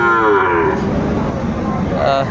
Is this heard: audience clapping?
no